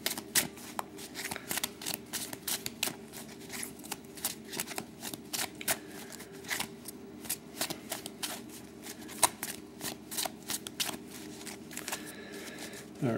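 A deck of Limited Hall of Fame trading cards being shuffled and cut by hand, with a long steady stream of close, crisp riffles and card flicks and no talk.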